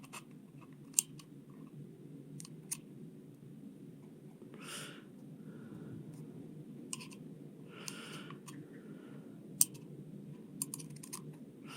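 Scissors snip off excess wire or wicking material while building a rebuildable vape atomizer, a few sharp, isolated cuts spaced apart in a quiet room with faint rustling between them.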